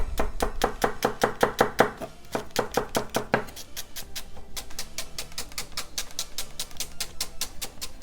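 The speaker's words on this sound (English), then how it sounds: "Take the end off and cut it down the center, just in half." A knife chops through a leek on a cutting board in a rapid run of sharp, evenly spaced strokes, loud and close, then a lighter, steadier series of cuts continues with no voices.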